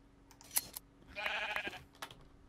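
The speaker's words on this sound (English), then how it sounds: "There's plenty of sheep here." Minecraft sheep bleat a few times up close, short nasal cries with small clicks and game noises between them, with no talking.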